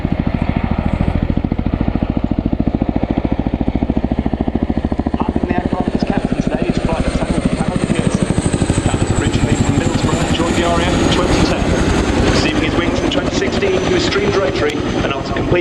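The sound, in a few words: RAF Chinook helicopter flying display at RIAT airshow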